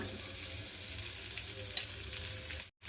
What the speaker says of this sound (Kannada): ಎಣ್ಣೆ ಜಜ್ಕೊಂಡಿರ್ತೀವಲ್ಲ ಕವಳಿಕಾಯಿನ ಅದಕ್ಕೆ ಹಾಕೋಣ